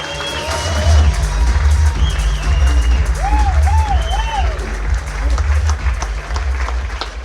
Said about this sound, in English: Give a big round of applause and give it up for him